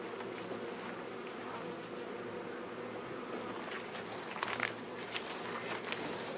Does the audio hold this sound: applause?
no